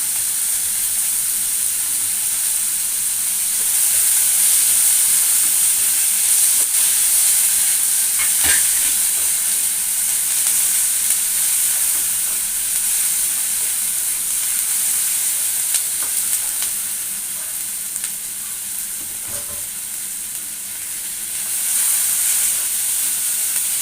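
Onions sauté in a pan for adai dosa batter, giving a continuous close hiss and sizzle with occasional stirring scrapes, no voices.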